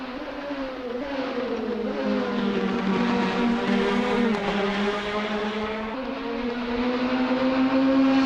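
Formula 4 single-seaters racing at Donington Park National circuit, engines screaming at high revs as cars pass on the approach to the penultimate turn; a steady, loud, close drone with shifting pitch from several engines overlapping.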